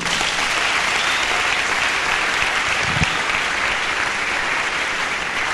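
A church congregation claps in loud, continuous, dense applause that stays even from start to finish, with no break.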